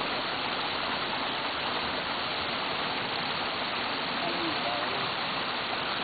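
Waterfall at a farm house in Penengla, a steady broadband rush of falling water, constant and fairly close, with a voice speaking over it at times.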